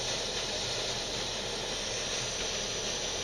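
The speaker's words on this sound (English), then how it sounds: "So what I'm using is my crazy little stove" A small stove burns steadily while heating a quenched knife's steel spine to soften it, a constant close, even hiss or roar of flame with no pauses.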